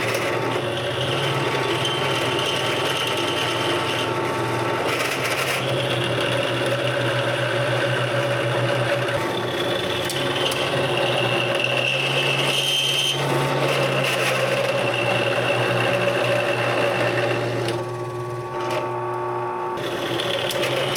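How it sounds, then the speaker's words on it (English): Cheap Harbor Freight drill bits bore through steel plate while fabricating rock rails for a 2006 Jeep Wrangler Unlimited, giving a steady, loud motorized whine and grind that runs without a break for about twenty seconds. "These are really cheap Harbor Freight drill bits."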